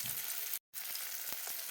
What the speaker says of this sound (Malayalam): മാന്തളാണ് കേട്ടോ വറുക്കാനിട്ടിരിക്കുന്നത്.